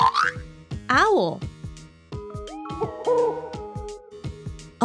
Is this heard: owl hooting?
yes